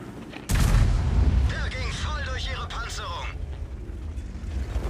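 Artillery fires in the tank battle video game World of Tanks: one sudden heavy boom followed by a rumbling, whistling tail, with a voice speaking over the game sounds.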